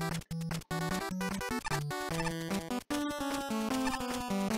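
A stage theme from a video game plays as busy chiptune music, with bright square-wave melody over driving bass and percussive noise bursts, continuous and fairly loud without speech.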